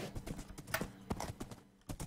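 Minecraft horse hooves clip-clop in a quick, uneven trot, fairly quiet and close, with a brief pause near the end before the steps resume.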